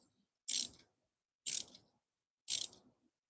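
Screws being tightened during a gas tank install on a limo: three separate ratcheting bursts, evenly spaced about a second apart, close and crisp against silence.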